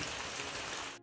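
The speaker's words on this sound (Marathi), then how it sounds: "आता पाऊस पण पडतोय ना" Rain falls steadily on a village homestead, a soft, even patter and hiss that cuts off abruptly near the end.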